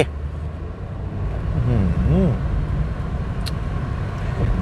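A 2014 Honda City V+ sedan being driven around, its steady engine and road noise running continuously under someone talking throughout.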